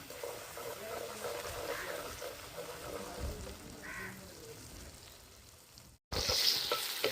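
Spices with turmeric, salt and dry chilli powder fry in a pan, a low steady sizzle with occasional stirring scrapes, faint and close, briefly broken before a louder burst at the end.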